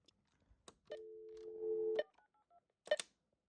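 A residential telephone redials a stored number, sending a quick string of DTMF tones after a few button clicks, clear and close in a quiet room.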